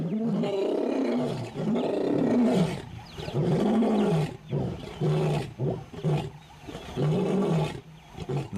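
A lion roars in the wild, deep rhythmic grunting roars repeating in close, loud bursts with short pauses between them, no voices present.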